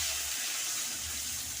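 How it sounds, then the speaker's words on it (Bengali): A tomato fries in hot oil with a black cumin tempering, giving a continuous close, dense sizzle like rushing water, with no pauses or talk. "টমেটোটা একদম ভালো করে ভেজে নেব তেলের সাথে।"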